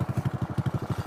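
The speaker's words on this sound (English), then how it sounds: "It sounds so bad with that exhaust." A motorcycle with a loud exhaust idling up close: a fast, even train of low, throaty pulses, about ten per second, thumping steadily with no talk over it.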